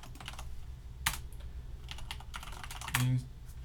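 A terminal command is typed on a computer keyboard with quick, light key clicks. A couple of sharper taps stand out, with a faint voice in the background.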